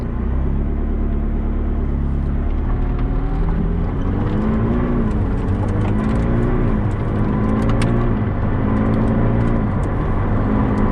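A 2019 McLaren 600LT engine drones loudly from close by while driving, a steady low rumble whose pitch swells and dips as the revs rise and fall, with no talking.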